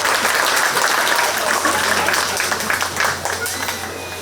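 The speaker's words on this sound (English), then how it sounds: "please give those three exhibitors a big round of applause" Applause from the crowd at a county fair 4-H swine show, honoring three exhibitors: dense, steady clapping fills the space for several seconds and fades slightly toward the end, with a low hum and faint voices beneath.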